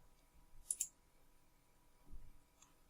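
Two quick, close mouse clicks in a row followed by a softer click a little later, in a quiet room while setting up a geometry group in simulation software.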